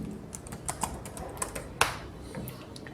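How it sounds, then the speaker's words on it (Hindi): Someone types on a computer keyboard, irregular quick clicks and clacks with one sharper keystroke, close up over a low room hum, with no voice. "यहाँ पे आपको सिंपल टाइप कर देना PGMS दिल्ली।"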